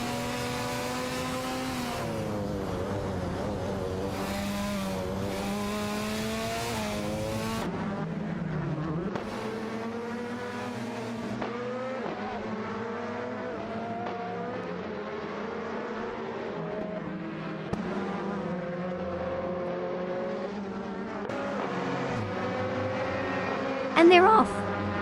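Race cars in a racing video game roar and rev continuously as they pull away, their engine pitch climbing and shifting through gear changes, with a commentator's voice layered over the din.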